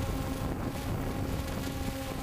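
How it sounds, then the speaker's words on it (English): Wind buffets a microphone outdoors, a steady low rumble with no voices and no breaks across the short stretch. "It's really windy up there."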